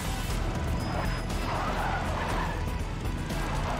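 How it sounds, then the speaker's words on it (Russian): A car skids and drifts in the video game Far Cry New Dawn, a steady loud tire screech and engine roar with no pauses. "А звуки какие, как будто мы, блин, тут это стритрейсинг устроили. Токийский дрифт."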